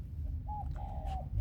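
A single pigeon gives one soft, drawn-out coo near a building on Peng Chau island, faint over a low rumbling background, with no wingbeats clearly audible.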